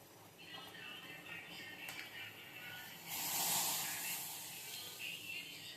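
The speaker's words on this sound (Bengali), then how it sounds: "তো জলটা পুরো ফুটে গেছে, চিনিটাও বেশ ভালো তো গলে গেছে।" Water with sugar boils in a pot for tea, giving a soft, faint hiss that swells briefly midway and then settles.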